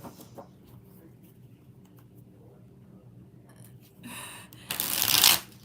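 Tarot cards riffle and snap together in quick bursts near the end, louder the second time, after a quiet stretch of faint room noise.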